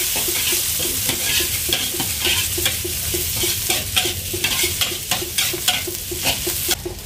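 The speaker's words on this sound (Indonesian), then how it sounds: "Ada bawang merah, bawang putih saya masukkan. Saya tumis terlebih dahulu." Shallots and garlic stir-fried in hot oil for a spicy shrimp dish, a steady sizzle under rhythmic spatula scrapes and taps against the pan, close and fairly loud throughout, with no talking.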